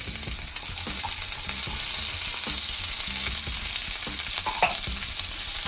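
Continuous hiss and crackle of green chillies and onion frying in hot oil for rava upma, with occasional stirring scrapes, close up.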